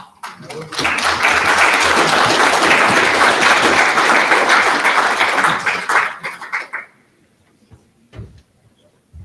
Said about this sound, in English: How about one more big round of applause for Sarah Eaglehart?